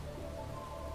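Steady rainfall in the post-apocalyptic role-playing game Atom RPG, a continuous even hiss with no breaks.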